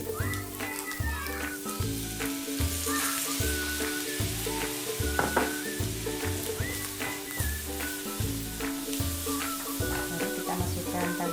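Chicken liver fries in a pan for a chicken liver and tofu porridge, giving a steady close sizzle with a rhythmic pulse, as if stirred, running throughout at moderate volume.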